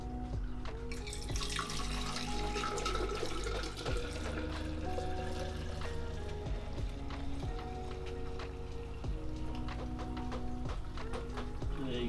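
C-41 bleach chemical is poured from one bottle into another, a continuous trickling splash with gurgles and small drips, close and alone.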